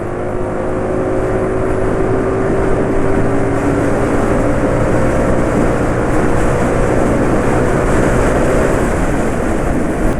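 A motor engine treated with a graphene oil additive revs hard and holds high RPM, a loud sustained drone with rising and falling tonal whine throughout and no talking.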